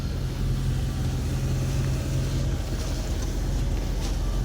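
The ABC suspension on a Mercedes R230 SL500 works each corner up and down, a steady close mechanical hum and rumble with a low tonal drone that drops away partway through.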